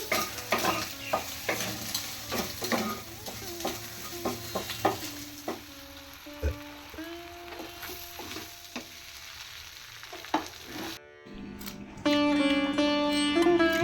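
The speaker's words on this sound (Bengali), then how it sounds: "ডিমটা এখানে ভাজা হচ্ছে" Egg frying and being stirred in a pan for vegetable chow mein with cauliflower, cabbage, capsicum, carrot and beans: a steady close sizzle broken by repeated scraping strokes, ending with a brief different tonal passage.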